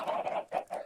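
A Minecraft chicken clucks in three short, close, distinct bursts with brief gaps between them, heard alone.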